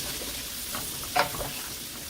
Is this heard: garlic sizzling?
yes